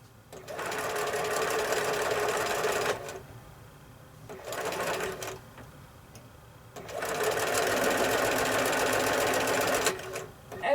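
A sewing machine stitches quilt block pieces in three separate bursts of steady, fast mechanical whirring, close and moderately loud, with quiet pauses between them.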